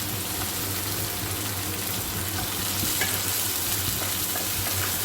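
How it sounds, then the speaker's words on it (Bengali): Chopped tomatoes frying in a pan with moong dal and panch phoron, a steady soft sizzle under repeated stirring, moderately close and without talk. "টমেটো দিয়ে একটু ভাজা ভাজা করে নিয়ে"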